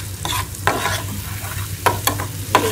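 Garlic sizzles in hot desi ghee as a tempering for mustard greens saag, a steady frying hiss broken by a few sharp stirring clinks, close and moderately loud with no talking.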